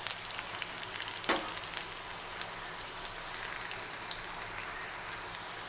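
Curry leaves crackle in hot oil with garlic for an onion pepper dal, giving a dense, even sizzle like steady rain, close and fairly quiet, with one sharper pop early and no voices.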